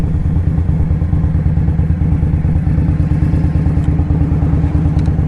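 A Polaris three-wheeler drives up a hill, its engine a loud, steady, rapidly pulsing throb that stays close and constant throughout.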